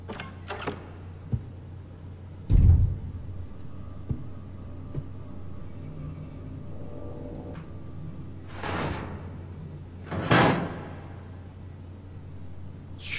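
Doors in the horror video game Monstrum swing open and bang shut, giving a few separate thuds and sweeping creaks spaced several seconds apart over a low steady hum.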